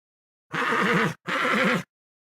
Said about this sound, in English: That's right, it's Lazy Horse